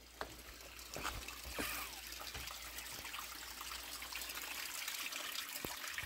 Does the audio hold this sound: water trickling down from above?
yes